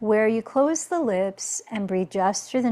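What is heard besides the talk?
None of the usual background noises is heard.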